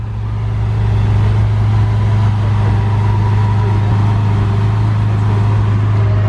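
A supercar's engine runs with sport mode switched off and exhaust valves closed, a loud, steady low rumble holding close by for the whole stretch.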